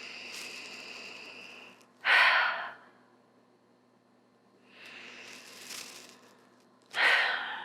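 Slow yoga breaths during a restorative prenatal session, two drawn-out airy inhales each followed by a stronger, breathy exhale, close and clear with quiet pauses between.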